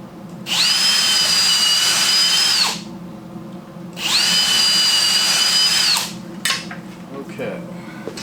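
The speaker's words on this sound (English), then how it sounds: "Okay, drill a couple holes in that." A power drill bores holes in wood while building a chicken tractor, with two loud sustained whines of about two seconds each separated by a pause, followed by clattering handling noises.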